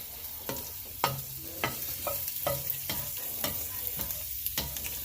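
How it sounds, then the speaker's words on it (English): Pork adobo ingredients stirred in a hot pan: a soft sizzle under rhythmic spoon scrapes and taps roughly every half second, close up with no voices. "just keep mixing it around a little"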